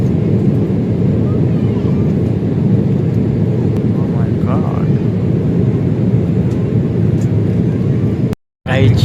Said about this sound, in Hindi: अब हम लैंड होने वाले हैं, बस लैंडिंग होने वाली है।